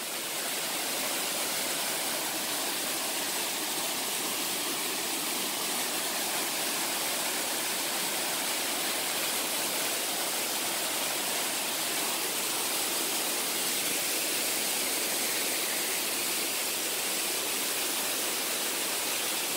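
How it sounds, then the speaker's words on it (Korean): A mountain waterfall swollen after heavy rain roars in a constant, dense rush of white water, loud and unbroken for the whole stretch, with no voices. "폭포가 아주 장관입니다, 장관."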